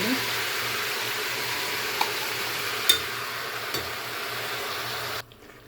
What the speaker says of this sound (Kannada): ನೋಡಿ ರುಬ್ಬಿಟ್ಕೊಂಡಿದ್ದನ್ನ ಹಾಕ್ಕೊಂಡು ತಿರುಗಿಸ್ಕೊಂಡಿದ್ದೀನಿ.